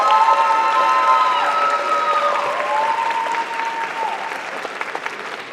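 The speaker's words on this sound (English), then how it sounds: "So how about a round of applause for the staff?" A graduation convocation audience applauds the staff, steady massed clapping filling the hall from start to finish and easing slightly toward the end, with a few scattered cheers and whistles over the top.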